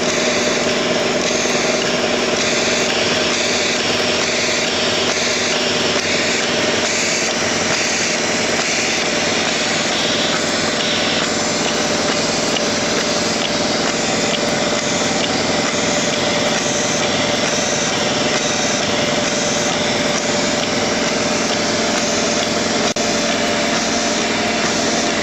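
A Torquerack model engine runs on compressed air from a small compressor at low pressure, giving a steady, continuous high-pitched mechanical whir with a fast, even rhythm, close and fairly loud throughout with no talk.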